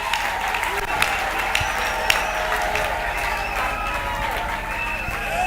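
A church congregation applauds loudly, thick continuous clapping mixed with crowd murmur and a few sharper individual claps, over a faint sustained tonal background.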